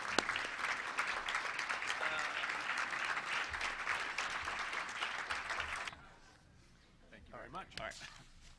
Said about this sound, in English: one more round of applause for those guys